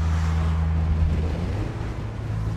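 Wind rushes through an open car window as the car drives, a loud steady buffeting roar over low engine drone, close to the microphone with no talk.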